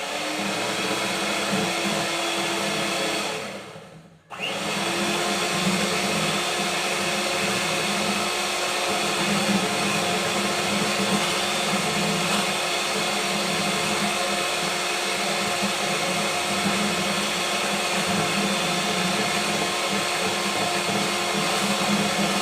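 An electric whisk beats cream with two teaspoons of sugar toward stiff peaks, a loud steady motor whir throughout, briefly stopping about four seconds in before resuming at constant pitch.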